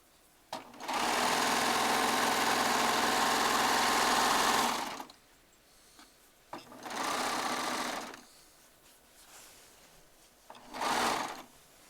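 A serger sewing machine stitching joined quilt blocks runs in a steady loud whir for about four seconds, then gives two shorter bursts after brief pauses, alone without talk.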